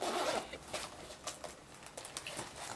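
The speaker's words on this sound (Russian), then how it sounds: "давайте откроем наши наушники" Beats by Dr. Dre Solo HD headphones being unpacked, with a quick zipper-like pull at the start followed by soft, close rustling and light handling taps of the packaging, no talking.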